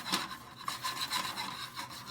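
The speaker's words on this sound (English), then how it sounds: "Shaking the pan back and forth, just a back and forth motion, rubbing, making a lot of noise at home, stirring." Pan shaken back and forth and rubbed on the stove while chili spices toast, a soft dry rasping scrape that repeats steadily, fairly quiet and close, with no voice.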